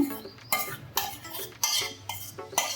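Boiled sabudana mixed with smooth boiled potato paste, stirred in a pot with a spoon, giving about six rhythmic scraping, clinking strokes, close and moderately loud.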